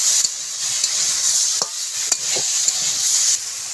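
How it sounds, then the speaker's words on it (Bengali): Crab curry sautéing and being stirred in a pan over a wood-fired stove, with steady high sizzle and a few sharp scraping strokes of the spoon, close and alone. "এবারে খানিকক্ষণ কষিয়ে নেব এদিকে কষানো হয়ে গেছে দিয়ে দেবো কিছু কাঁকড়া আর একটু কষিয়ে নেব"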